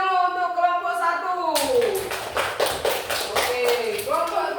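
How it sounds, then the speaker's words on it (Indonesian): A first-grade classroom breaks into a burst of applause for a student group, a few seconds of dense, lively clapping with a teacher's voice before and after. "Tepuk tangan dulu untuk kelompok 1."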